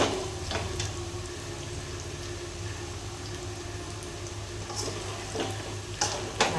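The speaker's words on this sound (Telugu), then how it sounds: "ఇదైతే సిమ్లో పెట్టుకొని బాగా కలుపుకోవాలి." Chicken pickle is stirred in a pan on a low flame, giving a soft, steady sizzle with faint scraping ticks and no talk.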